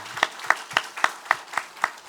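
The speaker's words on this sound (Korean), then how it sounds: "우리 박수 한번 하겠습니다" Rhythmic, evenly spaced clapping from a church congregation during a Sunday morning service: sharp claps about four per second, steady and moderately close, with no talking over them.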